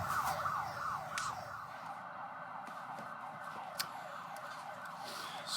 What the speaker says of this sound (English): So the sirens are going off right now because there is an injured horse on the racetrack.